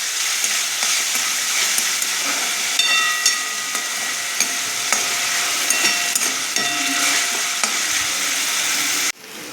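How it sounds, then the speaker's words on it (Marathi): Chopped chili and garlic fry in hot oil with a bright, steady sizzle and crackle, close and loud, with faint stirring clicks, ending abruptly in a quieter moment. "याच्यात आपण बारीक केलेली मिरची आणि लसूण तेलात टाकून चांगला परतून घेऊया."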